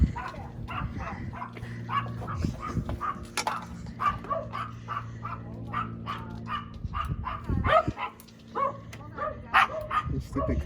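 Several dogs barking and yipping in excited bursts indoors, close and fairly loud, mixed with people talking over them.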